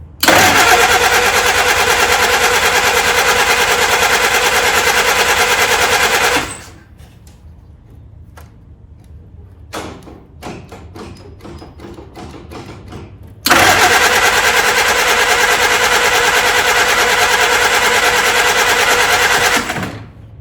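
A barn-find Willys engine cranks and runs on choke, a loud rough mechanical roar that cuts out into quiet clicks and clanks, then roars back up and holds steady before stopping.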